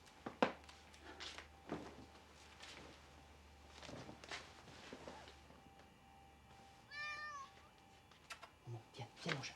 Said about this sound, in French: Viens, viens, mon chat. Viens.